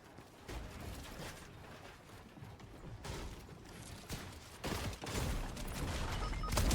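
Gunfire in an online battle-royale shooter, a dense continuous spray of shots with bursts rising near the end, fairly loud throughout with no talk over it.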